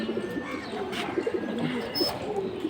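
Pigeon cooing among racing and fancy pigeons in a loft, with soft low repeated coos over a busy background of other birds chirping and murmuring throughout.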